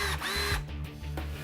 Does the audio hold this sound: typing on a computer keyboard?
no